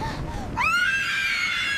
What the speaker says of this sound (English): a terrified young boy begins to scream